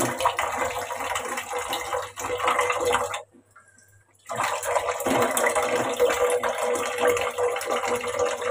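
Tap water runs steadily as someone washes their face outdoors instead of at a basin, with a brief pause in the flow partway through before it resumes.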